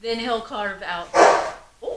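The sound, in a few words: dog barking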